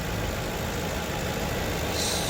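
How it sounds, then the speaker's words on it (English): A 2009 Ford Crown Victoria Police Interceptor V8 sits idling, a steady low rumble with broadband mechanical noise holding level throughout, close and alone with no voices. "It's been idling the whole time."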